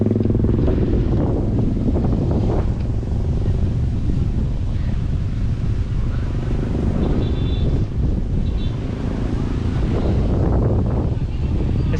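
Strong wind buffets the microphone at Hang Nadim airport in Batam, a steady low roar with gusty swells throughout that never lets up.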